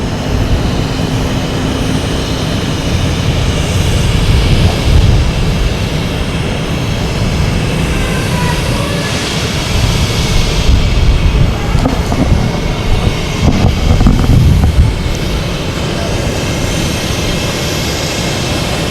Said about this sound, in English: We have a Delta coming in, A321neo coming in from Salt Lake City